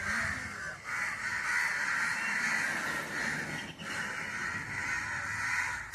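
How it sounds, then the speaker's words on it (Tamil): A large flock of crows caws continuously, many harsh overlapping calls forming a loud, constant clamor with no talking. "50 60 காக்கா வரும்."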